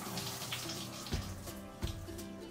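Brown rice being washed in water in a home kitchen, with soft sloshing and splashing, quiet and close, punctuated by a few louder swishes.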